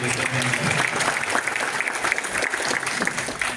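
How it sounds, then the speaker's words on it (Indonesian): Audience applause at a graduation ceremony for a job training center, a dense crowd of clapping hands sustained steadily through the moment with faint voices mixed in. "Ya tepuk tangan dulu."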